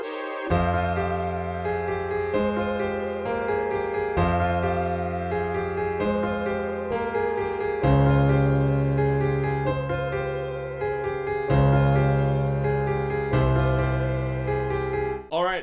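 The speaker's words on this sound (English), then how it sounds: "It's made up in two parts, the first synth part and then the second part being the piano part." A hip-hop beat loop made in FL Studio plays steadily and fairly loud, with a synth part giving way midway to a piano part over deep bass and drums.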